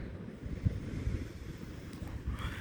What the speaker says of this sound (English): It's cloudy and it's windy.